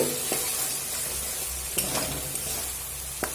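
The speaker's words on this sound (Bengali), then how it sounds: "দেখুন একটু নাড়াচাড়া করে মিশিয়ে নিয়েছি" Egg being stirred while it fries in a pan for a Bengali egg and aubergine bharta, a steady sizzle running throughout with a few light scrapes and clinks of the spatula against the pan.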